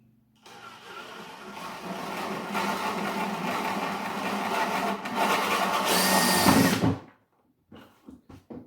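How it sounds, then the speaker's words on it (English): A power drill whirs steadily for several seconds, its pitch rising as it bores through the center of a plastic bucket lid, then cuts off abruptly, followed by a few faint clicks. "we're going to go ahead and just drill right into the center of the lid here"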